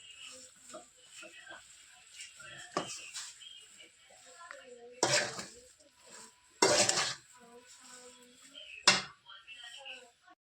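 Mashed potato sandwich stuffing with coriander leaves being mixed in a bowl: intermittent scraping, clinking and squelching strokes with a few louder spoon-on-bowl knocks, under someone talking.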